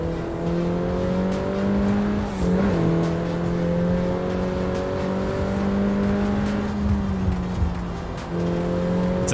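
A car engine drones steadily while driving on asphalt in Forza Horizon 4, a loud continuous hum with small shifts in pitch and a brief tire squeal, no voices.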